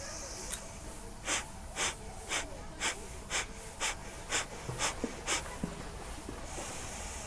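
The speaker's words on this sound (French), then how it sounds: "first big inhale, arms up" During a guided breathing exercise, a person near the microphone takes a run of about a dozen short, forceful breaths through the nose in a steady rhythm, each a sharp rushing burst, with a brief pause near the middle.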